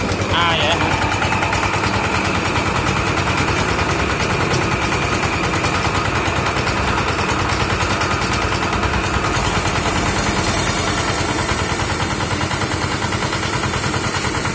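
A mini vibratory road roller engine running with its vibration engaged, a loud, rapid, continuous mechanical rattling and thumping drone, close by and unbroken, with people talking over it.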